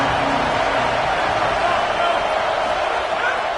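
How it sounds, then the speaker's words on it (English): A home crowd cheering at a football game fills the air with a loud, steady roar that never lets up, while a commentator talks over it. "how nice is it to have the home crowd going absolutely bananas?"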